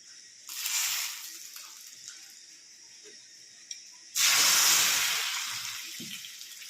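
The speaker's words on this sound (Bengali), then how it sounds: "এখানে ঘিয়ের ফোড়ন দিচ্ছি ঘি আস্ত গোটা জিরে আর একটা শুকনো লঙ্কা" Whole cumin seeds and a dried red chili hit hot ghee in a tempering for khichuri, giving a loud broadband sizzle in two bursts, the second erupting sharply and slowly fading, with no talk over it.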